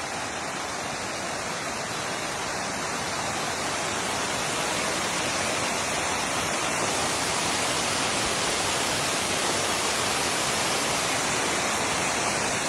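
Salt water waterfall pouring from a mountain in the desert, a dense, constant rushing roar of falling water, loud and unbroken throughout.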